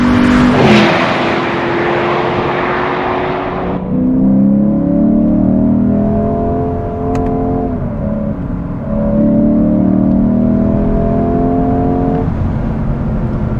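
A 2024 Lexus IS 500, a naturally aspirated V8, launches off the line with a loud, close roar that climbs in pitch through the gears, with brief dips at each shift and no talk.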